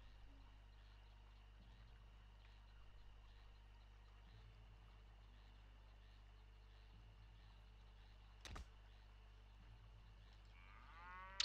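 A cow in the video game Polanie 2 lows repeatedly, with faint, low, regularly pulsing moos over a steady background drone, quiet and distant, ending in a brief sharper sound.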